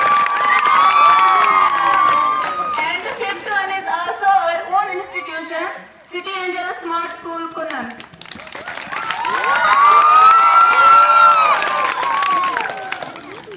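Loud crowd at a school quiz competition in Kupwara claps and cheers for a competing school team, with children shouting over the applause; a voice speaks in between the two bursts of cheering.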